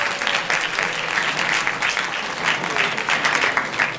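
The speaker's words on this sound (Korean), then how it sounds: "이런 데 한번 여러분 박수 쳐야 되는데 가만히 있으면 안 돼요." A lecture audience breaks into loud, dense applause, many hands clapping close and steady throughout with no pause.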